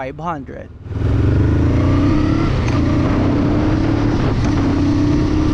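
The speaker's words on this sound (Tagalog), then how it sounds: "Ipapakilala ko sa iyo itong Honda CL 500." A Honda CL500 motorcycle engine catches and settles into a loud, steady throaty idle after a short vocal burst. It drones on close and continuous with slight swells in pitch.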